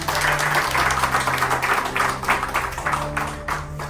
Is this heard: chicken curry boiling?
no